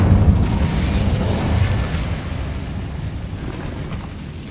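The Incendio fire spell cast in Hogwarts Legacy, a loud, sustained whooshing roar of flame with heavy low rumble that holds steady for several seconds and eases slightly toward the end.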